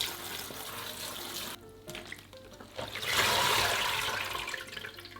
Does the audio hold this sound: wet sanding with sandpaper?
no